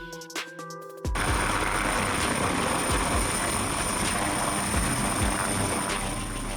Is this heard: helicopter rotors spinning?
yes